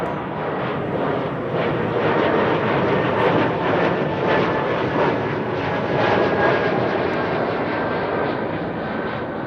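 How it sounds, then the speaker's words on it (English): A Croatia Airlines Airbus A220 departs Amsterdam Schiphol bound for Zagreb, its engines giving a steady, broad roar at moderate distance that holds evenly throughout. "Croatia Airlines on its way to Zagreb."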